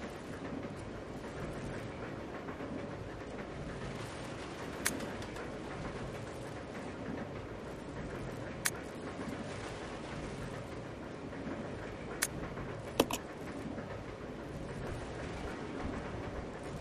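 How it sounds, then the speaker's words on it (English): A runaway train in the video game Resident Evil 0 rolls along its rails with a continuous low rumble and rattle, broken by a few sharp metallic clanks, heard at a moderate, steady level. "The train will either derail or crash. I gotta stop this thing."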